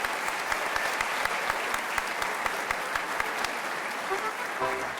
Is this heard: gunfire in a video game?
no